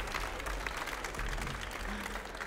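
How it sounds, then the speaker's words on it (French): Steady applause from an audience greeting a Swiss pastry team, a continuous dense patter of many hands clapping at moderate distance. "on peut les applaudir"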